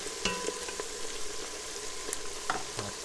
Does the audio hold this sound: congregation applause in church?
no